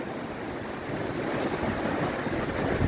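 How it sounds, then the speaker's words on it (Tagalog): Strong wind after a typhoon roars continuously against the microphone, a dense rushing noise with low buffeting rumble and no pauses. "Lakas ng hangin."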